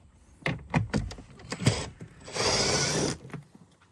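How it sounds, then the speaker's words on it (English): Work on a bolt on a Toyota Land Cruiser Prado brings a series of close metallic clicks and ratchet-like knocks, followed by a short, steady whirring burst, all fairly quiet with no talking. "We need to remove this bolt here."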